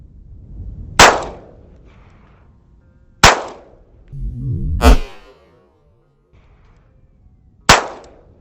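Three sharp handgun shots fired one-handed through a Strike Industries QUAD Micro Comp compensator, loud and close, spaced a few seconds apart, with a brief rumbling thud in between.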